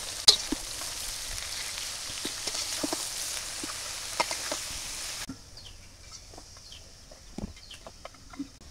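Chopped vegetable bhaji sizzles steadily in a pan with turmeric and salt in a village kitchen, a broad frying hiss for about five seconds that then drops away, leaving faint clicks and distant birds.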